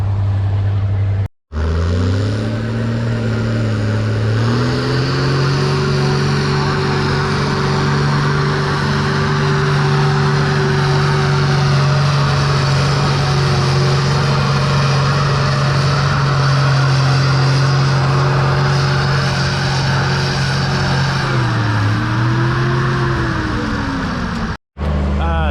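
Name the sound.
1955 Oliver tractor engine at a tractor pull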